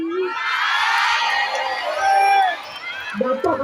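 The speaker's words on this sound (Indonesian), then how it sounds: "Orang Bekasi teriak-teriak" A crowd of residents in Bekasi, Indonesia, shouts and cheers excitedly at an outdoor public visit, a dense, continuous roar of voices with whoops rising over it.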